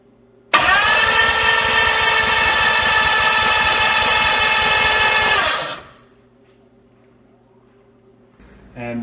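A Hemi engine cranks over in one steady, loud burst of starter whir and grinding that lasts about five seconds, then cuts off into near silence.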